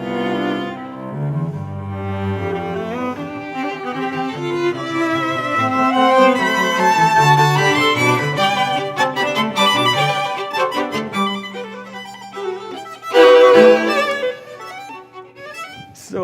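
A string quartet plays a passage from Mozart's 'Dissonance' Quartet, lines passing from one instrument to the next in a flowing exchange of bowed melodies, close and full, with a brief accented flourish near the end.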